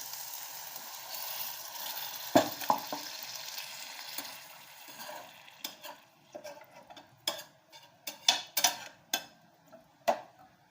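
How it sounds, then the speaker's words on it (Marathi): Hot water poured into sizzling green pea gravy in a pan sets off a sudden burst of hissing that gradually fades. Scattered clinks and taps of a utensil follow, close by, with no talk. "मी मिक्सरच्या भांड्यात थोडंसं पाणी घेतलेलं आहे त्या ग्रेव्हीमध्ये आता याच्यात ओतून घेते"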